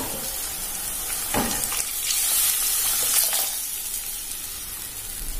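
Liquid for a spicy South Indian fish curry (kara meen kulambu) poured into a hot pan, giving a sharp sizzle and hiss with splashy bursts that settles into a steady frying crackle over about five seconds.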